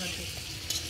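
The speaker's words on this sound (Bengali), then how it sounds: "আমরা এখন আলু ভাজছি, একদম সুন্দর নুন দিয়েছি, একটু হলুদ দিচ্ছি যাতে টেস্ট হয়" Potato pieces sizzle in oil with salt and turmeric for a meat curry cooked at a family picnic, a short steady frying hiss heard up close.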